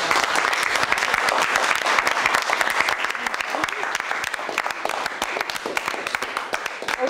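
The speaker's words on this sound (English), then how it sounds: "let's give Yvonne a huge round of applause" An audience gives sustained applause for a presenter after a long stage session, dense steady clapping throughout at strong level.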